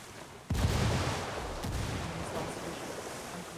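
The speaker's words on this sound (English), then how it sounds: "Frag out." A frag grenade explodes in the tactical shooter Ghost War: one sudden loud boom at about half a second, then a long rumbling decay that fades slowly, with no voices over it.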